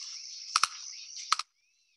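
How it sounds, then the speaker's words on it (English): A jabiru stork clacks its bill in two quick double-rattle bursts about three-quarters of a second apart over a steady insect-like hiss, then everything drops to near silence. "they gave me this, which I think sounds like the bird clacking his bill"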